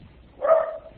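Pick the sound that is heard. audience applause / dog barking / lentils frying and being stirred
dog barking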